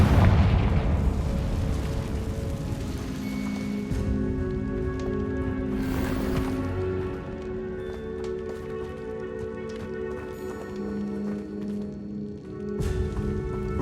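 A Confringo fire spell explodes in the game Hogwarts Legacy, opening with a loud burst and then a rumbling boom that fades under a sustained musical drone. No voices.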